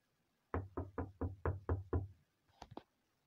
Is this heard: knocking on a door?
yes